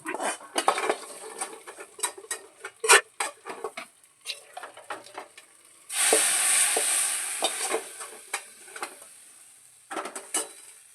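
Hot tempering with curry leaves poured onto cooked jackfruit, opening with scattered clinks and scrapes of a spoon and pan, then a sudden loud sizzle that fades slowly, followed by more stirring and clatter.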